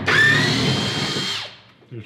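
A power drill whirs close by for about a second and a half, backing screws out of a wooden shipping crate holding a full-body ibex mount, then spins down, followed by a brief low thump.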